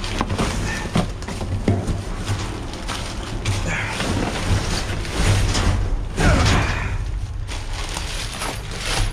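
Metal bolts and hardware clatter and scrape as hands dig through a box during a dumpster dive, a steady run of close rattling with a few louder clanks.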